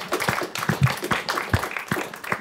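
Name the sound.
audience applause for a jazz ensemble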